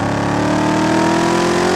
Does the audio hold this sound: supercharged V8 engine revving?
yes